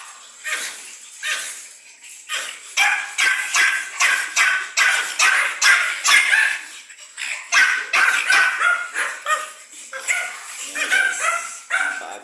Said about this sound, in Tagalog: Mga imported line guys na Pomeranian dogs